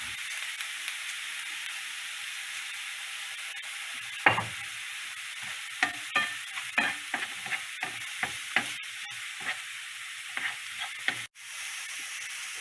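Onions fry in a pan as salt is stirred in, a steady close sizzle broken by repeated scraping spoon strokes and occasional louder clacks against the pan.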